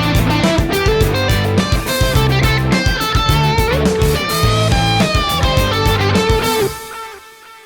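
Overdriven electric guitar run through a phaser, mono echo and small hall reverb, sitting in a full band mix with busy drums, playing steadily before fading into a ringing tail.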